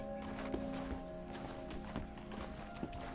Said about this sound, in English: why is this horse following me?